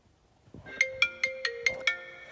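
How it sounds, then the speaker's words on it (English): A phone ringtone plays a bright, repeating electronic chime, six evenly spaced pulses that ring out loud and close with no talk over them. "Oh, another phone call."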